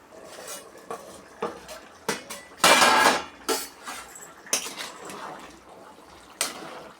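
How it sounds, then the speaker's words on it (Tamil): A metal lid is set onto a pot of mushroom biryani with several close, sharp clanks and scrapes of cookware, including one bright rattling clatter, in an otherwise quiet kitchen. "இப்போ வந்து மூடி வைக்கலாம்."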